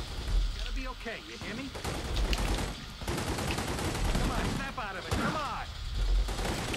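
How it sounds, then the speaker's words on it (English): Rapid gunfire crackles through a shootout in The Godfather 2 video game, volleys rattling from distant enemies, while someone talks over the shots almost continuously. "getting shot up a bit from far, far and far places"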